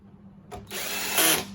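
After a soft tap, a power screwdriver whirs close and steady for about a second while backing a stainless steel screw out of a coffee machine's outer panel.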